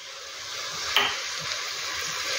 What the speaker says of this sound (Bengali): এবার চালটা দিয়ে দিয়েছি। এবার আস্তে করে একটু ভেজে নিতে হবে